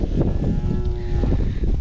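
Cattle on a ranch at hay-feeding time, with a drawn-out moo rising above a steady rumble of wind and background noise.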